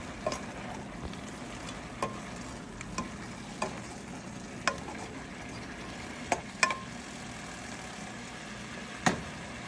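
Chopsuey vegetables with celery stirred in a frying pan: a steady low sizzle runs throughout, broken by sharp, scattered clicks and taps of the spatula against the pan, no talking.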